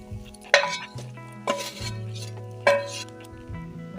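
Spoon stirring vegetables into white sauce for chicken pasta in a pan, several sharp scraping clinks against metal at an irregular pace, close and distinct over a faint low hum.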